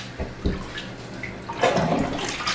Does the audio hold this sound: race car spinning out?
no